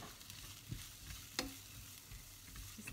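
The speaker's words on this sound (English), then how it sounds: "These are the spring onions and the carrots that we chopped earlier." Chopped spring onions and carrots frying in oil heated on medium-high, giving a faint, steady sizzle with a few light stirring knocks, close but quiet and without talk.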